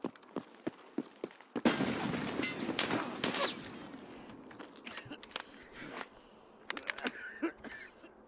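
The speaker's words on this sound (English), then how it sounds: "Get down, grenade!" A grenade blast in the video game Escape from Tarkov, a sharp burst erupting after several crisp gunshots, then a rolling rumbling decay with more scattered shots and clicks following, loud and close.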